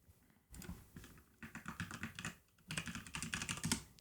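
Keystrokes on a computer keyboard about 20 cm from a cheap Nor-Tec/Action! USB microphone, fairly close, coming in three bursts of brisk irregular typing separated by short pauses, with no talk.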